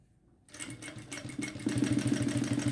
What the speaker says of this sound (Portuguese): E vou passar uma costura bem bonita de cada lado, para dar um efeito bem bonito. Vou fazer com um ponto bem largo.